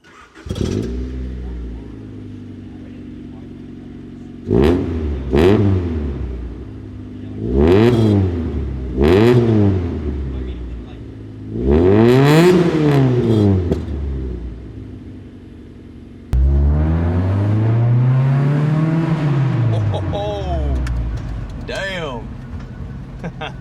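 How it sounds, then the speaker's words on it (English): A Honda CR-X engine revs repeatedly through a full stainless steel exhaust, pitch rising and falling in several sharp bursts, ending in a longer sustained rev; loud and close. "The exhaust has also been upgraded to a full stainless steel system"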